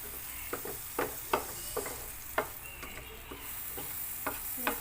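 Butter sizzling in a pan while making a sausage sandwich, a soft steady hiss punctuated by sharp intermittent clicks and taps of a utensil, fairly quiet and close with no talking.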